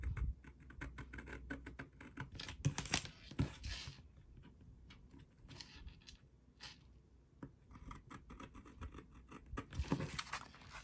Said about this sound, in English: I love this gyro cut